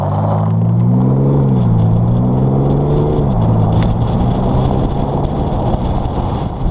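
A 2019 BMW X5 M50d diesel SUV accelerates hard, its deep engine drone climbing in pitch, dropping briefly at a gear change, then pulling again into a steady loud rumble with road noise, no talking.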